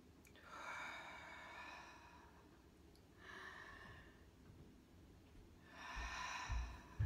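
Deep belly breathing, demonstrated as part of a warm-up for speakers: three slow, soft, breathy inhales and exhales spaced a few seconds apart, faint and close, with no talking.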